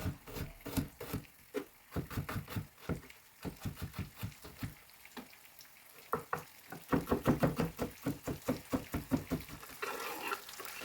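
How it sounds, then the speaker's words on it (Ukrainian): Rapid knife taps chopping garlic on a cutting board, fast and uneven, mixed with faint clatter and a soft background hiss. "Нарізаємо чесничок"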